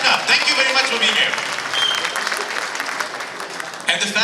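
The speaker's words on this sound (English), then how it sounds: "So give yourself a big round of applause." An audience at a fundraising dinner applauds with dense, steady clapping, loud and close, under a voice speaking briefly.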